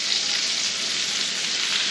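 Steak frying in a hot pan, a dense continuous sizzle heard up close and steady throughout.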